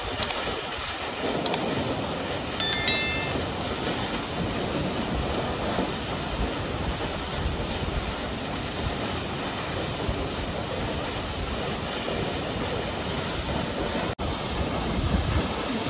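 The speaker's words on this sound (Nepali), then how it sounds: "मेरो स्वर मिठो कि यो झरनाको स्वर मिठो है, सुन्नु है।" A natural waterfall at Mikwa Khola in Taplejung, Nepal, roars as a steady, dense rush of falling water that fills the whole stretch close to the microphone, with a few faint clicks near the start.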